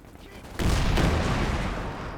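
Gunfire in a Company of Heroes 2 match, a sudden heavy burst of overlapping shots and booms that starts abruptly and keeps rumbling loudly to the end.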